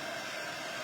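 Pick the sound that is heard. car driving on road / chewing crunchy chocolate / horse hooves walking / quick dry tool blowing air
quick dry tool blowing air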